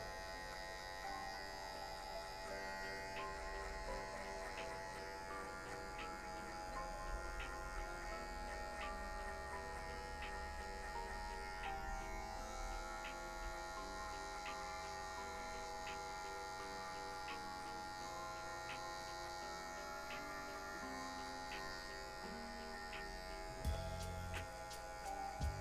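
An electric hair clipper with a zero guard cuts very straight hair for a fade, giving a faint, steady buzzing hum with light ticking through a long stretch, with no talking.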